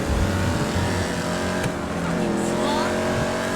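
A car engine in the GTA Online video game roars steadily while overtaking a slower car, with a continuous revving drone and a faint tire squeal.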